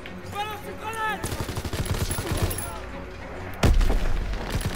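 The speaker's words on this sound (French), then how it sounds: "Balance une grenade." Gunfire and a grenade explosion in the World War II shooter game Call of Duty WW2, with rapid shots and bursts under voices, followed by a sudden loud, deep blast near the end.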